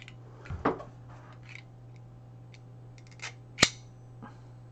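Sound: knife cutting a piece of mesh

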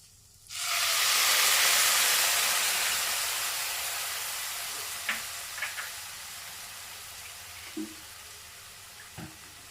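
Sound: okra curry boiling in a pan

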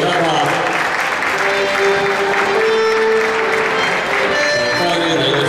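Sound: applause for award winner

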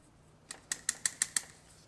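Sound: cutting extra wire off during forklift repair

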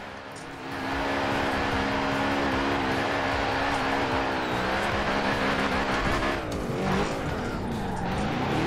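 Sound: car drifting with tire squeal in a racing video game

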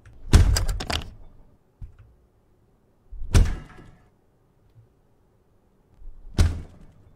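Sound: door banging in a horror video game

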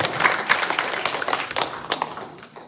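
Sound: audience applause

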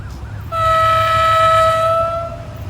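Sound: freight train passing

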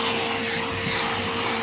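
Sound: vacuum cleaner hoovering dust from car interior

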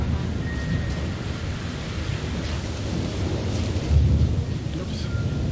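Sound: thunderstorm with thunder and rain in Austin

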